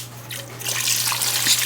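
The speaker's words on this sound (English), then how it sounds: "Just pour it right on in there on top of the beer and everything else." Chicken broth pours into a crock pot of Guinness stew over beer and other ingredients, a short close stream of gurgling, splashing liquid that swells louder after a soft start.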